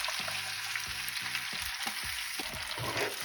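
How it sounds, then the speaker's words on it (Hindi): Garlic and tomato purée fry in a pan for beef achar gosht, giving a steady sizzle with soft stirring scrapes throughout. Nobody speaks. "अब इसको अच्छी तरह भून लेंगे।"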